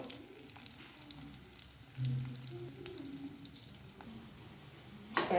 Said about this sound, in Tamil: சக்கரவள்ளி கிழங்கு போட்டு அது கொஞ்சம் நல்லா வேகட்டும்